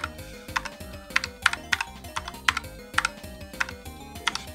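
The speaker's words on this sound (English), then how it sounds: "You can hear the keyboard, I'm pretty sure." Computer keyboard keys clack in a fast, irregular run of sharp taps during a tower defense game, over a faint repeating game soundtrack in the background.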